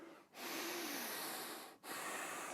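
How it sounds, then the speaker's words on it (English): Heavy, loud breaths after an at-home CrossFit core workout come close to the ear as long rushing exhales, with two short pauses between them. "Let's get that breathing back under control."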